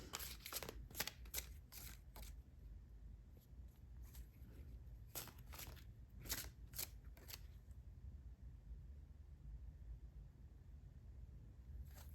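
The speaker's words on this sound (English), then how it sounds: "You want me to shuffle again" Tarot cards being shuffled by hand in a series of quick, crisp riffling bursts, clustered early and again mid-way, then fading into quiet room tone.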